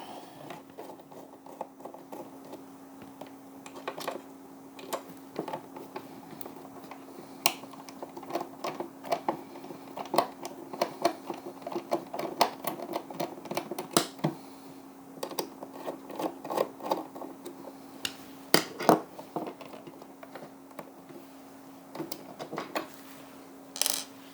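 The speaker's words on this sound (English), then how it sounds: "We'll need to remove these 2 screws as well." Screws are worked out of the battery bracket of a Cyber Power GX1500U UPS, giving a string of sharp, irregular metallic clicks and ticks close to the microphone over a steady low electrical hum, with no talking.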